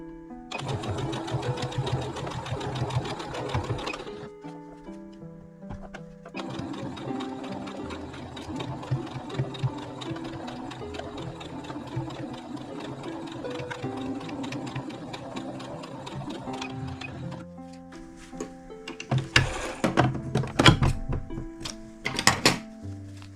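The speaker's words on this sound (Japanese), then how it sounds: "次はまっすぐ縫っていきます" A sewing machine stitches a straight seam on a rug, its rapid steady mechanical whir running close and continuous, pausing briefly, then giving way to louder clunks and handling knocks near the end.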